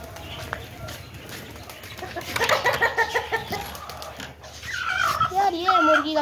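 A hen clucks nearby amid other farmyard noises, with people talking over parts of it and some bird calls toward the end.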